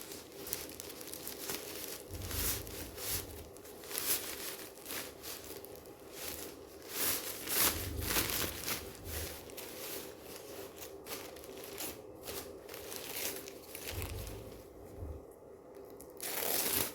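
Black poly plastic mailer crinkling and rustling steadily as a dress is wrapped in it, close and continuous with soft bumps throughout, no talking.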